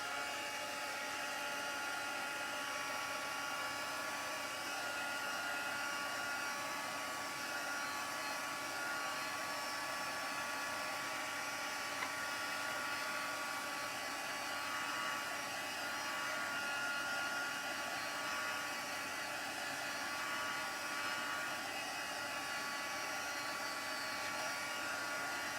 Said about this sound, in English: I'm going to use my heat tool to dry this off before we put another layer down